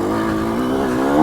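A Yamaha YZ125X two-stroke dirt bike engine revs steadily in first gear, a loud, close, buzzing drone that holds its pitch and swells slightly near the end.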